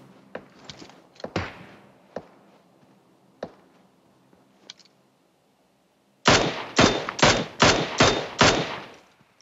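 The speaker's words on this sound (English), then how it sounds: "They're still shooting us." Gunfire in the mobile battle-royale game PUBG Mobile: scattered single shots at first, then a loud rapid burst of about seven closely spaced shots, heard close up without talk.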